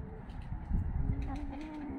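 Pigeons in a keeper's coop, where chickens are also kept, give soft low cooing calls. The cooing is faint and intermittent, with some indistinct background rustling.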